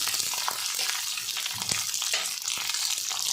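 Garlic, coriander, ginger, onion and chili roasting in a pan give a steady, close frying hiss with a few sharp crackles and stirring scrapes.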